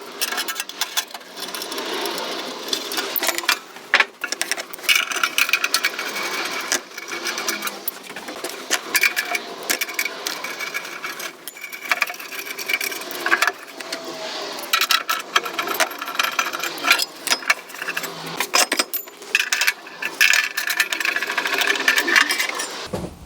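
Lortone TS10-C trim saw running without its sound-dampening matting, a continuous loud mechanical whir and clatter with rattling, metallic chatter that holds steady for the whole stretch, no voices.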